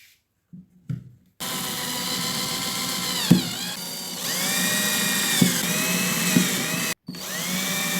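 A 12V battery drill whirs steadily as it grooves a guide mark along a pipe for cutting, starting after a few brief taps, with pitch dips under load and a short pause near the end.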